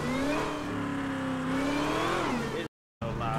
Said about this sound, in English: I don't want this loud ass car either though.